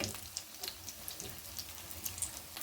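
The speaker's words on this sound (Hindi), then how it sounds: "मैं यहाँ पर इन्हें शैलो फ्राई कर रही हूँ।" Whole wheat flour breakfast snacks shallow frying in a pan give a faint, quiet sizzle dotted with small irregular crackles and pops.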